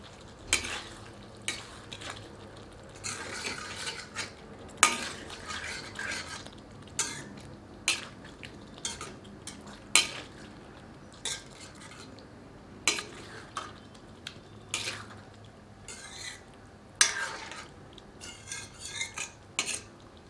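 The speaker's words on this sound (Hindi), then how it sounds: "इन अंडों को इस मसाले में सम्मिलित करते हैं। मिलाकर मध्यम आंच पर 2 मिनट पकाते हैं।" Egg masala is stirred in a pan over medium heat with a metal spoon, giving sharp, irregular scrapes and clinks over a steady low sizzle, with no talking.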